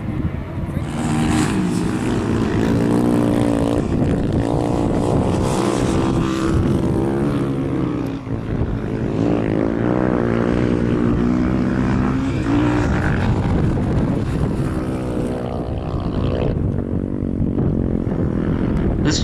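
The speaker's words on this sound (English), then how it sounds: "Listen to that wind." Strong wind roars steadily across open desert sand, a loud, continuous broadband rush with gusting swells and no speech.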